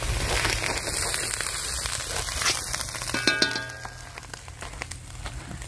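A ginger, garlic and onion spice mix fries in a pan for a mutton dish, giving a soft continuous sizzle and crackle with occasional clinks of a utensil, close and fairly quiet.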